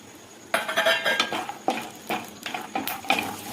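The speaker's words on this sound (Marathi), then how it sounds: "त्यासाठी लागणारे शेंगदाणे खमंग भाजून घ्यायचे आहेत" Peanuts roast in a pan for a fasting-day bhagar, heard as a rhythmic series of close, bright metallic scrapes and rattles from a spoon pushing them around, about eight strokes over the clip. Nobody talks.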